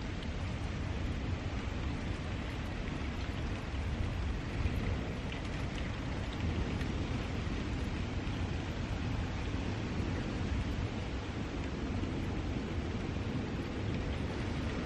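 Heavy storm rain pours steadily through the whole stretch during corn harvest, a dense, loud, unbroken roar with no voices over it.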